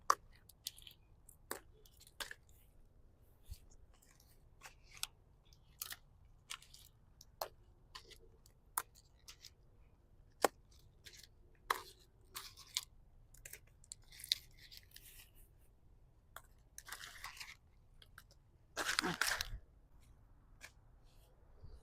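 Scattered crisp snaps and rustles of garden plant leaves being broken off by hand, close and irregular, with a longer rustling burst near the end.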